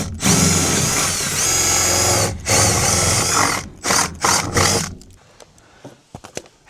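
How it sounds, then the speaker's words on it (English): A power drill whines loudly in long bursts, pausing between holes drilled in a campervan for a MaxxAir Fan Deluxe, then gives a few short stuttering pulses before falling quiet. "is drilling holes"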